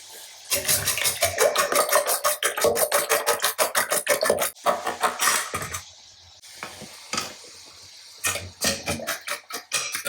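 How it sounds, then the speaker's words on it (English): Eggs are whisked in a bowl for a beef and egg meal, fast rhythmic scraping and clinking of a whisk against the bowl, close and loud, pausing briefly and then resuming, with no talking. "we need to whisk up our eggs"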